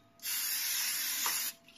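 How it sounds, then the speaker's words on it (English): One steady hiss from a can of Pam cooking spray, lasting just over a second, close and clear against near silence. "Now it's time to spray it on."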